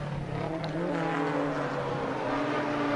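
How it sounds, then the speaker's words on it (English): A V8 race car howls down the main straight at Sydney Motorsport Park during a retro Group A and C race, its engine a steady, loud drone with tonal bands that rise gradually under acceleration, continuous throughout. "The V8 though stretching the legs, coming down the main straight here at Sydney Motorsport Park"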